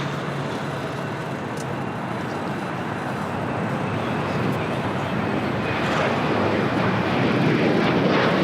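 An Alaska Airlines jet airliner at LAX produces a loud, continuous engine roar that grows gradually stronger as it passes close by, with no voices.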